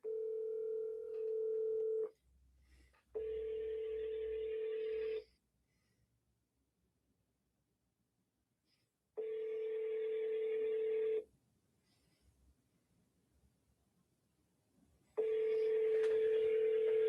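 An outgoing telephone call rings through a handset, three long electronic ringback tones separated by long silent gaps, steady and clear with no talk over them.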